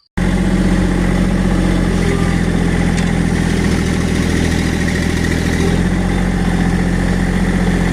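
Loader engine running steadily and loud while it pulls on a large bush, a constant close mechanical drone with no talking.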